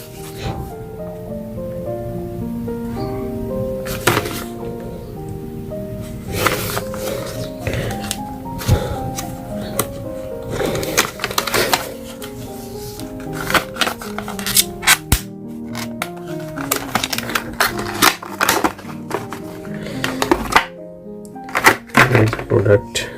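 Tolsen anti cutter package being unboxed, with crinkling plastic, rustling and sharp snaps of packaging handled close up, scattered irregular bursts over the whole stretch while someone talks in the background.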